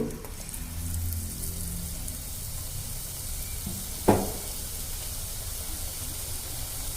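Battered chillies deep fry in hot oil with a steady, close hiss of sizzling, and a brief sharp burst partway through as another piece drops in.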